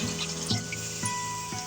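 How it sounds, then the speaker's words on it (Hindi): Water pours steadily into a pot of fried masala while making a broth for a curry, a continuous splashing wash with no talking. "अब इसमें पानी ऐड कर रहे हैं जितना हमें शोरबा चाहिए।"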